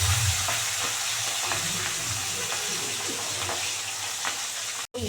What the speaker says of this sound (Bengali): তেল গরম হয়ে গেছে, এবার মাছ একটা একটা করে ভেজে নেব